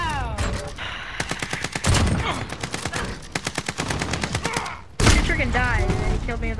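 Rapid bursts of gunfire from a shooter video game, with automatic fire in quick repeated volleys and sharp blasts, mixed with game effects and a voice speaking over the shooting.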